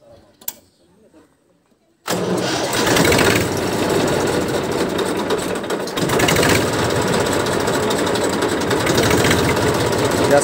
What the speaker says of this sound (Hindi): किसान भाइयों स्टार्ट करके दिखाते हैं आपको।